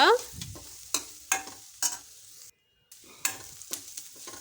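Onions with a little turmeric frying in a pan, with repeated short bursts of spatula scraping and stirring over a light sizzle, fairly quiet with a brief pause near the middle.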